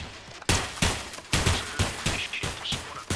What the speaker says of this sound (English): LAV shooting from Regina